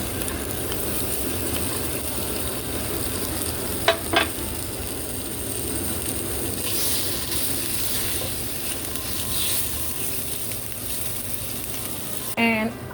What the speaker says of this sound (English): I'm going to add a little bit of oil so I can saute the ingredients.